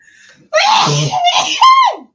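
A single sharp sneeze bursts out after a moment of near silence, loud and close, with a wavering vocal tail at the end.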